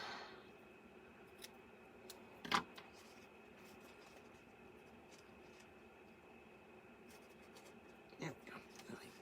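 Scissors snip off excess material while a teacher gift is trimmed, with a sharp cut near the middle and another toward the end over quiet room tone.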